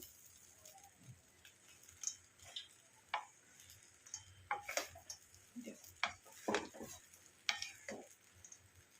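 A wooden spatula stirring a flattened-rice pulao mixture in a pan, making soft irregular scraping and tapping knocks over a faint sizzle, close but quiet.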